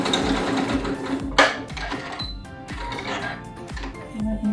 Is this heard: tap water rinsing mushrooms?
no